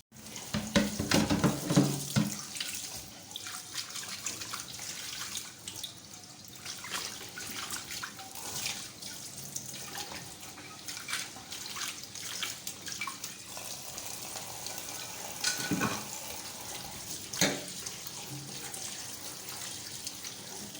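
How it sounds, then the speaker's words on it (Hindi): Tap water running steadily into a sink while marinated fish is washed by hand for a fish curry, a continuous close splashing stream with occasional louder splashes and clatter. "आए अब इसको धोते हैं अच्छी तरह से।"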